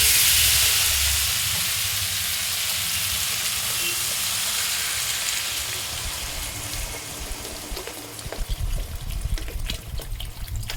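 Water poured into a hot pan of fried bottle gourd curry sends up a loud hiss and sizzle that gradually settles into softer bubbling with scattered crackles.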